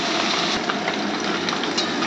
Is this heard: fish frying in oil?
yes